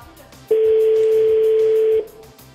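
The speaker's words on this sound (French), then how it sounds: "Ça sonne" On a phone call, a single steady telephone ringing tone sounds loud and clear for about a second and a half, with faint background noise before and after.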